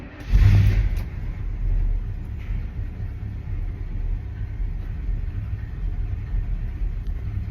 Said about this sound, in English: So we're gonna stick the key in, turn it over, give a couple pumps of gas for a choke